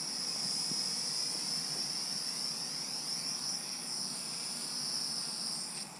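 Motors of a Tenergy TDR Python mini quadcopter whine in a thin, high, steady pitch while the craft lands, holding nearly constant before winding down right at the end.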